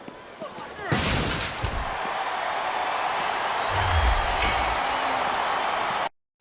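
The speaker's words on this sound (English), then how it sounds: "I'm not sure I agree with what the crowd is chanting, JR, but I guess it's their right." A virtual arena crowd in a WWE SmackDown vs Raw wrestling game roars and chants as a dense, continuous wall of noise, with sharp impacts near the start and commentators talking over it.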